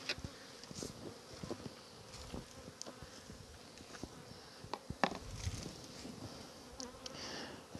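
Honeybees buzz around a hive box in a soft, continuous drone, with scattered knocks and handling sounds from the box rising over a faint background hum.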